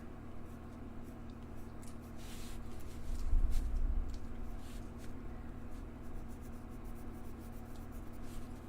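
Brutfuner colored pencils scratch across paper while coloring, a soft continuous scratchy rubbing with short strokes, faint and close.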